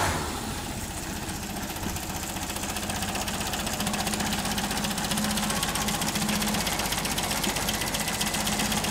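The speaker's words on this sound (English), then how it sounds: "Another little short clip of my 1953 MGTD. This clip we were just going to crank it up," A 1953 MG TD car engine idling close by after start-up, a steady, even rumbling chug with a fast mechanical ticking texture that holds throughout with no talk.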